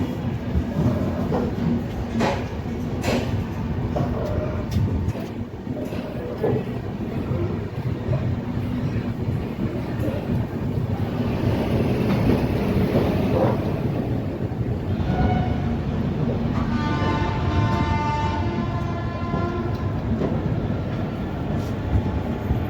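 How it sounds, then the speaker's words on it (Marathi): The Marathwada Sampark Kranti Express pulls out of Nanded station, a steady low rumble of rolling wagons with scattered clanks, wind buffeting the microphone and a brief rising horn-like tone near the end. "आपली मराठवाडा संपर्क क्रांती एक्सप्रेस नांदेडवरून निघण्यासाठी तयार आहे"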